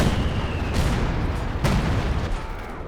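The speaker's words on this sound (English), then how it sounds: "Major calling in the artillery" Artillery fire in the video game Company of Heroes 2 booms in heavy low rumbling blasts, with two sharper impacts standing out over a dense, continuous battlefield din.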